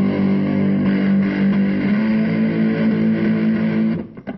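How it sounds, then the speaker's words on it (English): Electric guitar played through an amp with the gain turned all the way up, one heavily distorted note sustained loudly for about four seconds before cutting off. "Now that's a lot of distortion."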